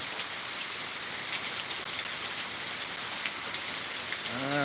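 Steady rain falls on a farm where a cow stands getting wet, a dense, even hiss of drops that stays constant throughout with no voices.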